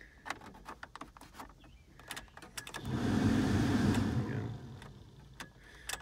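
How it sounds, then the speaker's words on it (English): Heater and AC blower fan in a 2006 Jeep Wrangler, a soft whirring rush that swells for a second or two amid clicks and knocks from the controls and cabin, suggesting a faulty blower resistor. "We'll test out the heater AC control"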